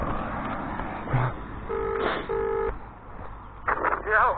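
Phone call being dialed and ringing through a handset speaker, with beeps and steady ring tones sounding over background street noise, close and fairly loud.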